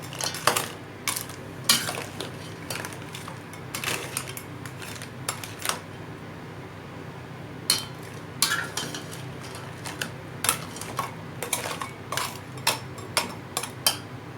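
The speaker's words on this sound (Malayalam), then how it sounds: "ഇടയ്ക്കിടയ്ക്ക് ഇതുപോലെ ഇളക്കി കൊടുക്കാം." A spoon stirs and scrapes through Kerala-style crab curry in a pot, with irregular metallic clinks and knocks over a low, constant background hum.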